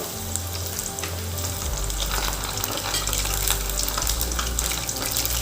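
Chicken Kentucky coated in masala fries in hot oil over a slow flame, giving a steady, dense sizzle with crackling that carries on without a break. No one speaks.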